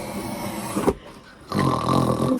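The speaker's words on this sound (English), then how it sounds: "Did you just hear Dolly snore?" A puppy snoring up close, two drawn-out raspy snores separated by a short quiet breath.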